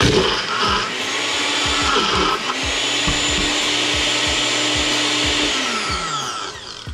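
A countertop blender whirs steadily while blending a homemade smoothie, a loud continuous motor roar with a rattling, churning texture that holds for several seconds before winding down at the end.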